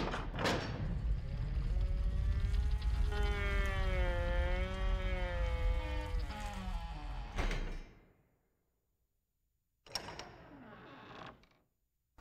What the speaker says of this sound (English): And there's the elements here for when the door actually settles. So all of those sounds comprise up that one door element.